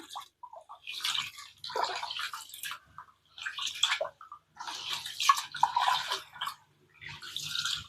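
Ration rice being washed and kneaded by hand in water for idli batter, close sloshing, swishing and dripping in uneven bursts with short quiet gaps, no speech.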